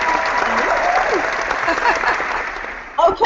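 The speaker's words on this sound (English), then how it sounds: "Why am I clapping?" A few people clapping close by at the start of a fitness challenge, steady applause with voices talking over it and a louder spoken moment at the end.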